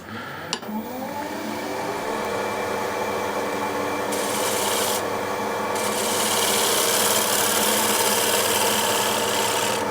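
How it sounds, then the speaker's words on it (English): A scraper drawn steadily along a surface to blend it, giving a continuous dry rasping and rubbing with no pauses, fairly loud and close, rising slightly in brightness toward the end. "you then move the scraper along to just blend everything nicely"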